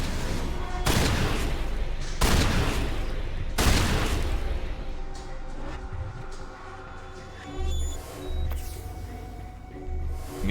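Pistol and shotgun gunfire in a Mass Effect game: three loud, heavy blasts in the first few seconds, each spaced about a second and a half apart, followed by quieter rumbling thuds and background game sound.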